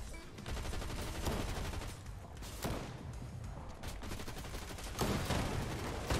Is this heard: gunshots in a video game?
yes